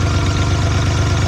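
A Ford Bronco II engine with exhaust leaks and rattles runs steadily and loudly up close, producing a rough, low, pulsing idle with a constant metallic clatter.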